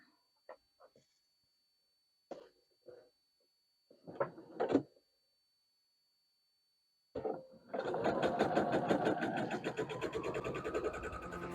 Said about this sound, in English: And then we will sew like this.